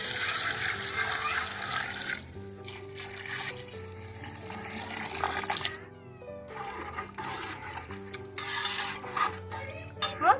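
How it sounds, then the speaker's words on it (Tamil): Water splashes and trickles steadily into a cooking pot of biryani, with gurgling and occasional metallic clinks, while tonal hums sound in the background. "இப்போ நம்ம தண்ணி ஊற்றிக்குவோம் தேவையான அளவுக்கு"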